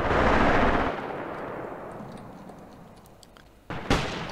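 Heavy artillery strike with a loud rumbling blast up front fading into distant crackling small-arms fire, then two sharp close shots near the end, on a WWII-era Eastern Front battlefield in a tactical war game.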